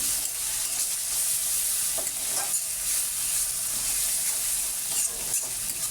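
Ginger paste, cumin paste and spices fry with onion in a pan. The sizzle is steady and close, broken now and then by the scrape of stirring, and no one speaks.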